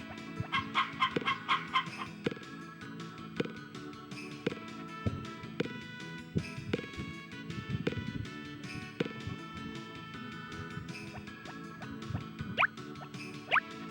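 Chickens clucking in the Harvest Moon farming video game, a steady run of short chirpy clucks and tones mixed with plinking game sound effects and music, fairly close and continuous.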